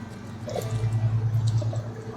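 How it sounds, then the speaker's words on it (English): Water poured onto garden plants in pots of moist soil, a brief close trickle and splash that swells and fades over a couple of seconds. "We're just gonna give these some water"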